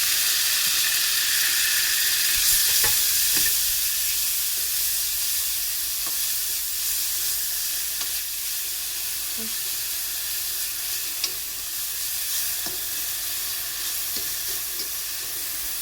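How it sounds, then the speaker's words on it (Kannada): Dill leaves frying with chili pepper in an oiled pan, a steady moderate hiss and sizzle running throughout, with a few faint clicks and stirring knocks scattered over it. "ಸೊಪ್ಪು ಚೆನ್ನಾಗಿ ಇದರಲ್ಲಿ ಫ್ರೈ ಆಗಬೇಕು."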